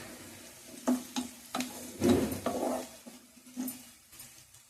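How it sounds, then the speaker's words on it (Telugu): Onions fry in a pan for chicken fry with a soft, steady sizzle, broken by several sharp scrapes and clinks as they are stirred, close and fairly quiet. "ఉల్లిపాయ చూసారా మనకి ఎర్రగా వేగిపోయింది"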